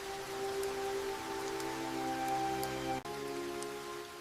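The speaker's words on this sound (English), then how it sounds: "When the rain finally weakens, the forest begins to breathe again" Steady rain falls through a stormy lowland Madagascar forest, a dense continuous patter with a few sharper drops, close and fairly loud, with a brief dip near the end and no voices.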